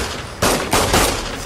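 Three loud bursts of automatic gunfire crack out in quick succession during a Tomb Raider multiplayer match on Xbox One, close and punchy over the game's ambience.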